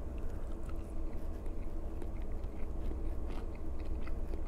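Someone at the Sunfish Grill in Corolla, North Carolina bites into fried breaded white fish from a fish and chips plate, with quiet chewing and light crunching over low background murmur.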